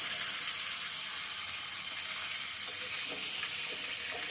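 Fish pieces frying in oil in a pan on a home stove give a steady, dense sizzle with faint crackles, close and loud throughout with no talk.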